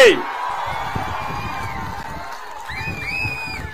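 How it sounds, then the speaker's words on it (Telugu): A large outdoor crowd at a Telugu Desam Party political rally roars and cheers steadily for several seconds, with shouts and a few shrill whistles rising near the end. "గట్టిగా చప్పట్లు కొట్టి హర్షాన్ని, ఆమోదాన్ని తెలియజేయాలి"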